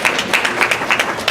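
An audience at a luau-themed music recital claps in a brief burst of applause, a dense close patter of hands lasting about a second.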